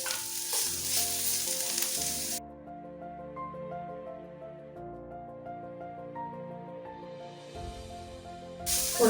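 Boiled chicken and three spices with softened onions sizzle and fry loudly in a pan, a bright hiss that suddenly drops away, leaving a quiet stretch with tonal background music before the sizzle surges back at the end.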